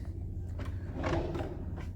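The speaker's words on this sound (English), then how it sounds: "And you've got 3 slow closed drawers." Slow-close drawers in a Carnival cruise ship balcony cabin sliding open and shut, giving soft muffled thuds and gliding rumbles, close and moderately quiet with no talk.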